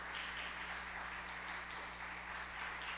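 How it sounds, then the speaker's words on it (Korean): Church congregation at a Korean Thanksgiving Sunday service clapping together, a continuous, fairly faint wash of applause with a steady low hum beneath and no voices over it. "우리 전체 박수하고요."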